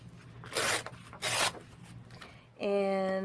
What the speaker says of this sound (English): I'm just going to tear it down the middle